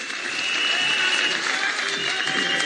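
Sustained applause from a large audience at a party delegates' meeting, dense steady clapping that swells early and holds strong throughout with no break.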